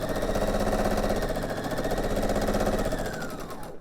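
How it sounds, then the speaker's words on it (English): A sewing machine stitches a quarter-inch seam in pieced quilt fabric, running as a steady, rapid mechanical whir that stays close and loud throughout, then eases slightly at the end. "So we're going to sew a 1/4 inch seam."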